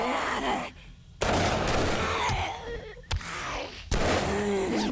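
Gunshots in 7 Days to Die alpha 21: three loud, sharp shots land at irregular intervals over a few seconds, with ambient game noise between them.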